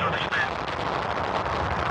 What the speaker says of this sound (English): The main engine start has been initiated.